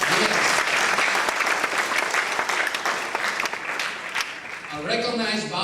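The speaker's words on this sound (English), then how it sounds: "I want to applaud the Zomi in USA" Dense, loud audience applause at a Zomi literature celebration, sustained crackling clapping from many hands that thins toward the end as a speaker's voice comes in.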